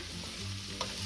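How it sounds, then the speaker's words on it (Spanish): A brief scrape of a spoon stirring charro beans with sausage and ham in a hot pot, with a light sizzle and one sharp clink, no talking. "Vamos a mezclar."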